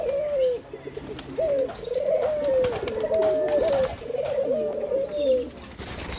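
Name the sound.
fantail pigeons cooing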